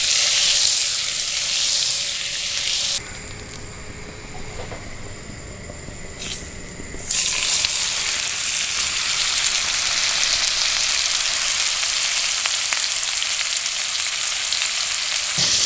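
Wild boar tenderloin frying in olive oil and butter makes a loud, dense, steady sizzle that briefly dulls to a softer hiss midway before returning at full strength.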